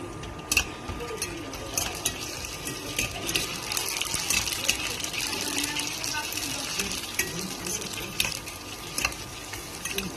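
Fuchka shells frying in hot oil at home until red and crunchy, a continuous bubbling sizzle with scattered crackles and pops, fairly close, with a faint voice now and then in the background.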